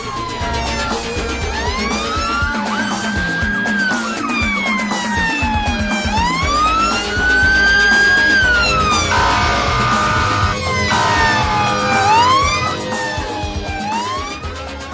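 A police car siren wails loudly and close, its rising and falling tone sweeping repeatedly as the vehicle passes, with traffic rumble beneath.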